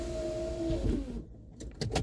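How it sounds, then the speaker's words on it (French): Power windows of a parked car rise with a whining motor hum and stop, followed by a few soft clicks and thumps inside the quiet cabin. "Je vais fermer les fenêtres."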